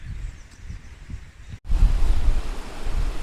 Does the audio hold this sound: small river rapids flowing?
yes